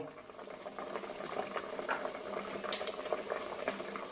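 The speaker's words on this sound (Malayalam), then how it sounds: "ചിക്കൻ നന്നായിട്ട് തിളച്ച് വറ്റി മീറ്റ് ബോണയിൽ നിന്ന് വിടണം" Chicken with potatoes simmering in a covered pot, a soft continuous bubbling with small pops and gurgles, steady and moderately close.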